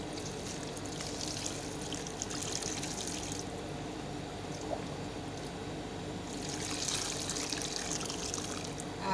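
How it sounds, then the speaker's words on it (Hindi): Water drained from an air conditioner is poured into a plant pot, giving a steady splashing trickle that swells at the start and again near the end, moderately loud and continuous with no voices. "आप अपने पोट में ये पानी डाल के रख दें"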